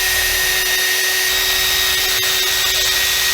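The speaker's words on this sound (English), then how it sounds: "I take out the bridge, and I'm gonna drill these holes." A power drill bores holes into the body of a Stratocaster electric guitar during a build, giving a loud, steady whine that runs continuously without pause.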